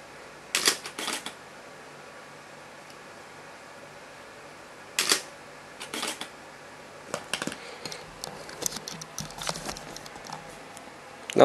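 Sharp mechanical clicks of Sony SLT-A55 and DSLR-A900 camera shutters firing on a 2-second timer, in separate bursts, a couple of isolated snaps followed by a rapid cluster of clicks near the end.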